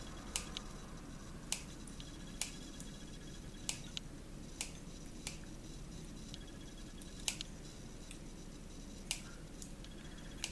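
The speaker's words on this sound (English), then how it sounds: "I can just get back in there with my scissors, and now it's easy to trim those rough edges off" Scissors snipping rough edges off an acrylic pouring skin or yupo paper piece for a pendant, a series of sharp, close, fairly faint cuts at an irregular, unhurried pace with quiet background hiss between them.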